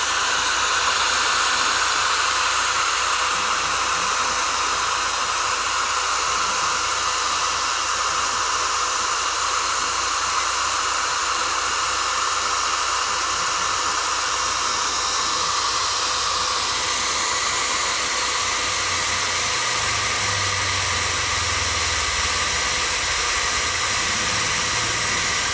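A blower or hair dryer runs steadily for the whole stretch, a loud close hiss of rushing air with no pauses, plus a faint low rumble near the end.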